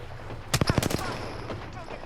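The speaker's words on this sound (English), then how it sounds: "Then I heard gunfire behind me, so I headed back that way." A quick burst of rapid gunshots from Apex Legends video game gameplay rattles off in a short volley, followed by a faint low background hum.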